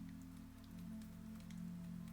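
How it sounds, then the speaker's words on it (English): Steady rain falls outside a bus at night, a soft, even patter over a low engine hum that runs unbroken throughout. "The rain covered the world outside."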